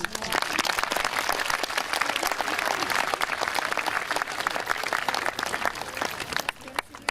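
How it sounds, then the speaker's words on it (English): A large audience at a middle school class ceremony breaks into sustained applause, a thick, even roar of many hands clapping that holds strongly before dropping off near the end. "That definitely deserves a round of applause."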